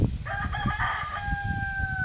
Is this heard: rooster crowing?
yes